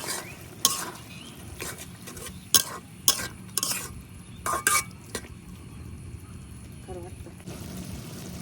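Small taki fish fry and boiled potato cook in a pan with a soft sizzle under repeated sharp scrapes and clinks of a metal spoon against the pan, and a voice speaks briefly.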